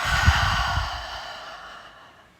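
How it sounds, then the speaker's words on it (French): Breathing exercise: a slow audible inhale through the nose followed by a long, fading breathy exhale through the mouth, close and alone. "Inspire avec le nez. Expire avec la bouche."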